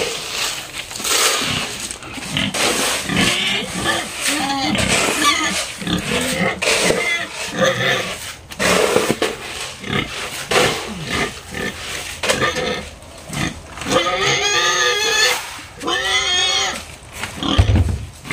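Pigs on a farm grunt and squeal at feeding time in a busy, continuous jumble of close, loud snorts, with feed rustling and clattering mixed in throughout.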